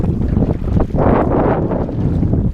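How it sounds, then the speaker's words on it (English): Wind gusting across a kayak out on a pond, a loud, rough rushing buffet against the microphone that swells and holds steady through the short stretch, with no voices. "It's a little windy."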